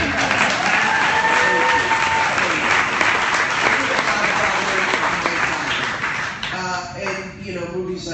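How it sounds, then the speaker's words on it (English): A crowd claps and cheers steadily for several seconds, loud and sustained, tapering slightly toward the end. "Little round of applause."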